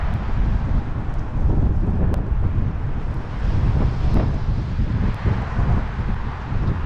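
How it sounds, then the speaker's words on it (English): Strong wind roars and buffets the microphone continuously outdoors at Penn's Landing, Philadelphia, with leaves blowing; a heavy rumbling gust with no voices heard. "As you can tell by all the leaves and everything blowing, it's really windy."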